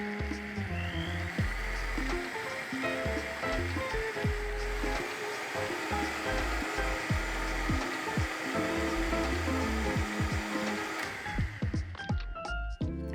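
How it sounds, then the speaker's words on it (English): A blender runs at high speed making a creamy green smoothie, a loud, continuous motor whir with churning, rattling texture that cuts off near the end. "So I'm going to just work this blender up to high and we'll get it nice and creamy."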